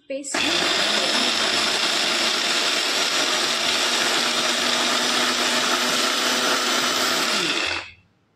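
A mixer grinder blending cashews with water into a paste whirs loudly and steadily for several seconds, a continuous high-pitched motor roar that cuts off abruptly near the end.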